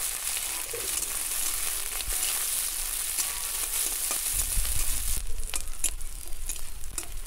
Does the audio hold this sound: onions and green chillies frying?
yes